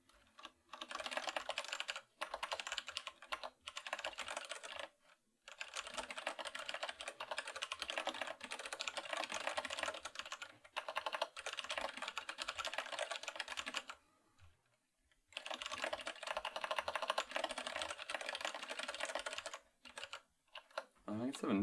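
Typing on a computer keyboard, close by: continuous rapid key clatter in long runs, broken by a few short pauses and one longer pause, with no one talking.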